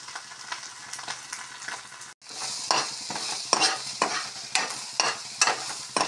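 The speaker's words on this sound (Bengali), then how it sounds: "শুটকি মাছ আর সব মশলা ভাজা হয়ে গেল" Dried fish and spices fry in a pan, a steady sizzle broken by repeated scraping stirs, close and fairly loud, with no voices.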